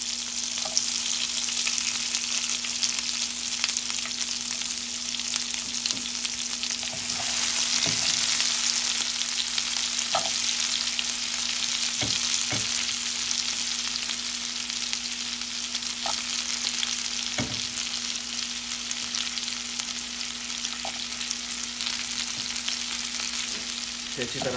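Green chili and garlic fry in a pan with a steady broadband sizzle that lasts throughout, along with occasional soft taps and stirring knocks and no voices.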